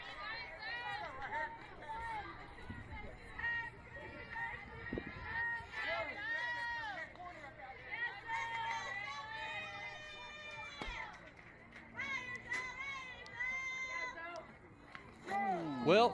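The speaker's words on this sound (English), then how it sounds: "You can hear the team cheering which way, and they're saying that way." A girls' softball team cheers and calls out from the dugout during a game, with overlapping high-pitched shouts and chatter at a moderate distance, under an announcer talking nearby.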